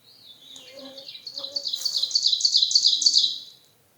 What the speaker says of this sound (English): Listen to that bird, isn't that beautiful?